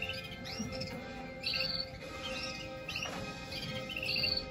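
Young canaries in a breeding room give repeated short, bright chirps and tweets at moderate loudness over a steady low background hum, with no talking.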